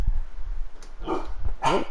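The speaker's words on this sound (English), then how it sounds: "What do you think you're barking at," A pet dog named Charlie barking indoors, a few sharp separate barks at close range with short pauses between them.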